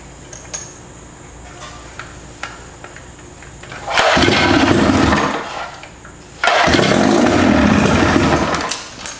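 A Johnson 25hp outboard motor is pull-started. Two loud, rough bursts of cranking and sputtering, each lasting a couple of seconds, break quiet background with faint clicks.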